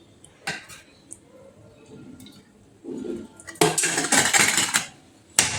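Metal spoon clinking against a steel cooking pot (topa) while oil is added for masala rice: a few light clinks early, then a louder, busier run of scraping and clanking near the end, close by, with no talking.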